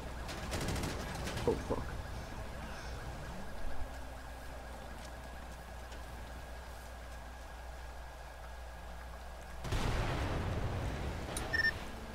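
Automatic gunfire hitting a vehicle on a freeway in the GTA V video game, with rapid bursts of shots at the start and again near the end, sirens wailing in between, and a man swearing briefly.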